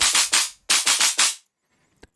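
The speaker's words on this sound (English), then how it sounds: "So we have the noise layer that sounds like this." Noise layer of a tearout bass synth patch: loud bursts of harsh, bright white-noise, three quick hits, a brief gap, then four more in a chopped rhythm, each cutting off abruptly, followed by near silence with a faint tick.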